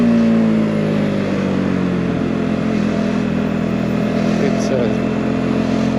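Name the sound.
Voge R125 motorcycle riding through traffic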